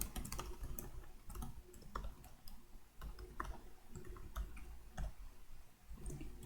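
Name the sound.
typing on a computer keyboard while writing Java code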